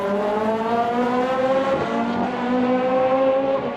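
A race car at Spa-Francorchamps rushes through the bus stop chicane during a Supercar Challenge round, its engine note rising and falling through gear changes, loud and close, with no talk.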